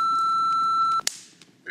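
Answering machine signal: a steady, loud electronic beep tone holds for about a second and cuts off, followed by a short click and faint clatter.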